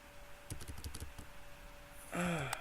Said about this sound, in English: Press 6 on your keyboard.